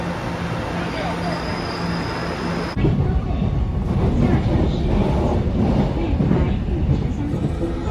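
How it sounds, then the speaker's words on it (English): A local train rumbles in close by at a station in Keelung, Taiwan, its low heavy roar swelling suddenly partway through and continuing with clattering rail noise and some voices. "the trains just come in on now"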